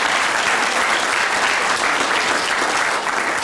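Dense, steady applause from an audience at a school kids' voting kickoff event, a continuous wash of clapping hands that stays loud and even throughout, with no voices rising above it.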